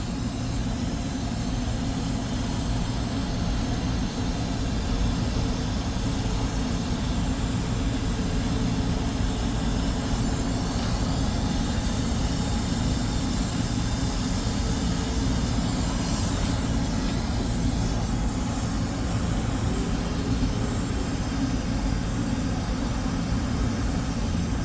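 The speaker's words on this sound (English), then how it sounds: "So you're kind of having to do a little bit of torch work there to make sure everything's good." A rosebud torch heats a brass fitting on a 3/8 refrigerant line, producing a loud, unbroken roaring rush with a deep low rumble that stays constant from start to finish, with no one talking.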